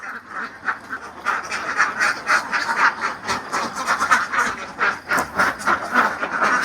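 Many ducks, yellow and black, quacking at once on a duck farm in Laos in a noisy, overlapping chorus, loud and close, with constant nasal calls throughout.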